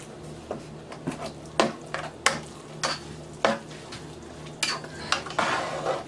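Stuffing mixture with stock being stirred in a pan, a run of separate scraping and clinking strokes of a utensil over a faint steady background, each stroke distinct and close.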